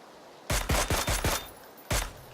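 Gunfire in the battle royale shooter PUBG, with five loud, close shots fired in quick succession, a short pause, and one more shot.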